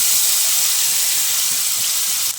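Ground spice paste hits hot tempering oil for a vegetarian doi potol, pointed gourd in yogurt, giving a loud, steady, close hiss and sizzle that runs unbroken and without speech before easing slightly at the very end.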